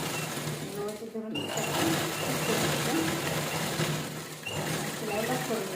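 A sewing machine runs steadily up close, stitching a sequined saree into a door curtain, its even motor whir pausing briefly near the start and again toward the end.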